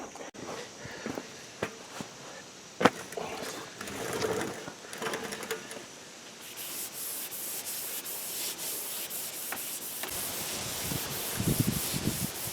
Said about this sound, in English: sanding with 320 grit for a little bit